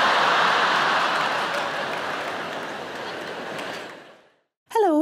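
A stand-up comedy audience claps loudly and continuously for about four seconds. The applause fades out to silence, then a voice starts speaking.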